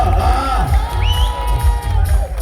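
A crowd at a tug of war contest in Kerala cheers and shouts loudly, a dense roar of voices with whoops rising above it.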